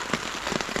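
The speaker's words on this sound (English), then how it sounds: "it's so nice to hear the rain and to actually be under it" Rain patters on a camping tent during a solo camp in yellow-warning weather, a dense, even drumming of drops close overhead over a split second.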